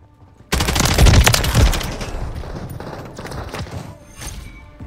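Dense automatic gunfire in Call of Duty Modern Warfare 3 multiplayer erupts suddenly and loud, a rapid rattling burst with heavy thuds that fades into continuing scattered shots.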